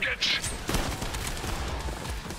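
Gunfire in the video game Trepang2, a few sharp shots bursting out over dense game noise, with someone talking over the action.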